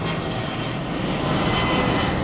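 Airplanes flying close together overhead produce a loud, steady engine drone that holds unbroken throughout, with no talk.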